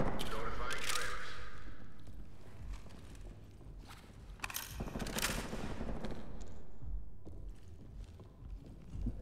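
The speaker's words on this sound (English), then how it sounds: "I don't know what that dude's shooting at" Gunfire in the tactical shooter Ready Or Not, sharp bursts of shots mixed with rapid clattering, footsteps and shifting background noise, with talk over parts of it.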